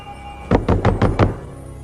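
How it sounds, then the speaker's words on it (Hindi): Five firm, evenly spaced knocks on a wooden door, close and loud, following a faint tonal hum with no talking. "दरवाजा खोलो पीटर"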